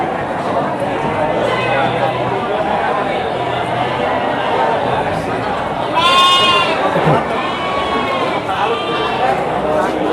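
Garut sheep bleat at a busy sheep market in Tanjungsari, Sumedang, a wavering cry rising out of constant crowd chatter and background bustle, with nearby voices talking throughout.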